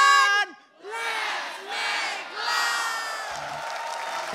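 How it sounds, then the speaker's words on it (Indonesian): An audience at a stand-up comedy show in a hall cheers loudly and shouts in several swelling waves, with whoops rising over the crowd roar and clapping mixed in. "Boleh bisa tepuk tangannya sekali lagi"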